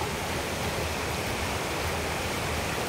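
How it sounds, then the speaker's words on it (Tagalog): Steady, broadband rushing of flowing water, constant and fairly close, with no voices over it. "Ayun po yung ilog natin."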